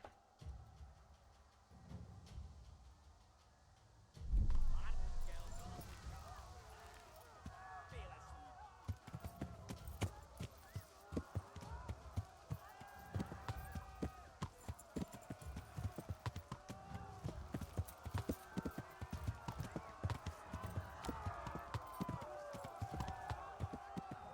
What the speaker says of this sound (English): Right, so gonna walk, canter, gallop.